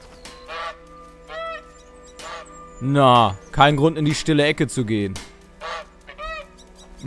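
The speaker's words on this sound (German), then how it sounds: "Mit mir will die Gans nicht reden, das ist schade." A goose honks in A Plague Tale: Innocence, a burst of loud, close, nasal calls in quick succession, set among short quieter honks, with someone speaking German briefly in between.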